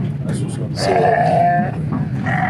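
Sheep bleating at a livestock market during an official ministerial visit, a wavering cry rising mid-clip over crowd murmur and people talking nearby.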